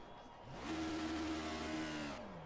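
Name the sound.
Caterham Superlight engine revving in Project Cars video game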